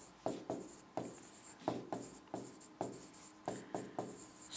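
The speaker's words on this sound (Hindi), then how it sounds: "यहाँ पे लिख दे रहा हूँ" Chalk or marker writing on a board during a classroom lesson, a quiet run of short scratchy strokes in bursts with brief pauses between words.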